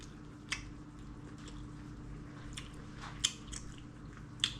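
Someone chews tender chicken adobo up close, a few soft wet bites and mouth sounds at irregular intervals over a faint low background.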